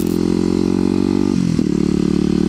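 A Kawasaki KLX250sf supermoto motorcycle engine runs close by, a loud throbbing single-cylinder idle that dips and shifts pitch briefly partway through.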